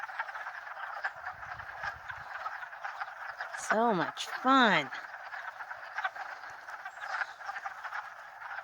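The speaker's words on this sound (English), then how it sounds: "So those are all the frogs." Chorus of spring peepers and other frogs on a spring nature walk, a dense steady trilling with a couple of louder nearby croaks in the middle, while a person speaks briefly.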